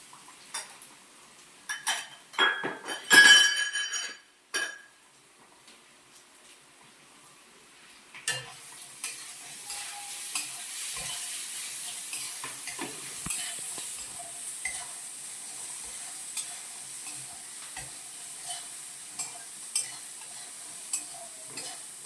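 Spices with turmeric and salt sizzling in a pan for a greens and makhana fry, opening with a burst of loud clattering utensil strokes, then a softer continuous sizzle with scattered light stirring scrapes, no voices.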